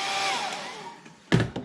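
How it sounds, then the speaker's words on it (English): A hair dryer blows steadily over wet watercolor paint, a smooth airy whir that fades out before a short louder bump of handling noise near the end. "so now I take my hair dryer, dry it back a little bit"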